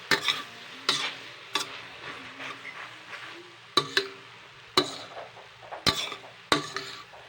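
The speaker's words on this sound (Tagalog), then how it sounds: "Now we stir fry this." Pancit bihon rice noodles stir-fried in a pan: a soft continuous sizzle broken by about nine sharp metallic clanks and scrapes of a utensil against the pan at irregular intervals.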